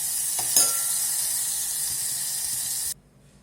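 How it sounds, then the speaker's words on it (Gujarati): Crushed curry leaves, a green chili and tomatoes sizzle in hot oil with cumin and asafoetida, a steady loud frying hiss with a brief stirring burst near the start that cuts off abruptly near the end. "જે આપણે આ ક્રશ કરેલું છે લીમડાના પાન અને એક મરચું અને ટમેટાં એ સાતળી લેશું"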